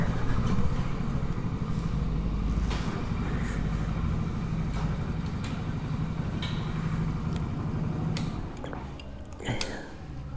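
A motorcycle on a long road trip idles steadily nearby with a continuous rumble and faint ticking, easing off slightly toward the end as it is pulled aside.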